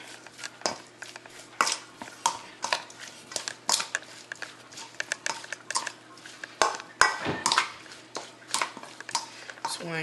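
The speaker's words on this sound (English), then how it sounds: "I'm going to just take that mixture, mix it up really good" Taco seasoning mixture of salt and lime juice being stirred in a bowl, with clinks and scrapes of a utensil against the dish arriving in irregular bursts, close and fairly crisp.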